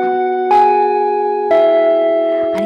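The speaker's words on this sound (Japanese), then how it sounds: "チャイムが鳴りましたので、そろそろ授業終了のお時間です" A school chime rings three times at steady intervals, each bell-like tone sustaining and overlapping the next, clear and fairly loud with no voices.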